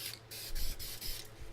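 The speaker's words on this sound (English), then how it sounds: "Obviously it's spraying a little better." Aerosol spray can of paint hissing through a swapped-in replacement nozzle, a few close bursts of broadband spray with short pauses between them, no talking.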